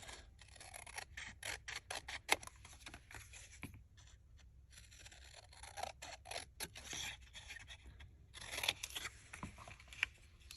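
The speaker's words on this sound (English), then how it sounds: "so we'll cut around it" Scissors snip repeatedly through paper while trimming a handmade embellishment for a December Daily cover page, a close run of crisp cuts with brief pauses and a few louder snips.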